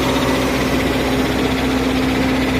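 A John Deere 4010 tractor engine idles steadily up close with its muffler stack removed, a continuous low drone with a strong steady hum and no talking.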